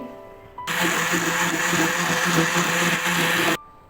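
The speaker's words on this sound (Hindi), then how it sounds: "तो अब हम इसको 1 से 2 मिनट के लिए इसको हम ग्राइंड करेंगे।" A blender whirs loudly for about three seconds, grinding mango with milk and cream into a milkshake. The motor starts abruptly, holds a steady roar and stops just as suddenly, with quiet before and after.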